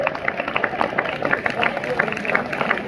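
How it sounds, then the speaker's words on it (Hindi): Pupils and staff give lively, sustained applause for teachers at a school Republic Day event, rapid claps blending with crowd murmur and speech. "जोरदार तालियां इनके लिए।"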